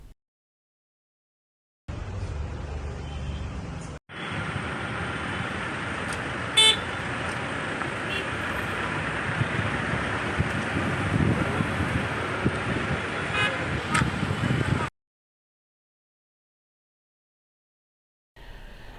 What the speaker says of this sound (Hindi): PVNR एक्सप्रेसवे पर इस हादसे की वजह से शदीद ट्रैफिक जैम भी देखा गया।